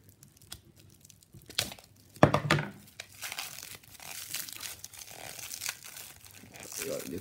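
Crinkling and tearing of thick plastic foil wrapping on trading cards, irregular close-up rustles with a sharp louder crackle midway, alongside intermittent speech.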